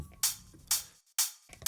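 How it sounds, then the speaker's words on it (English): Sixteenth-note hi-hat part built from a knife sharpening sound effect shaped with an LFO in a progressive house track: bright, scraping metallic swishes repeating at a steady rhythm, moderately loud and alone. "which is using a knife sharpening sound effect with some LFO."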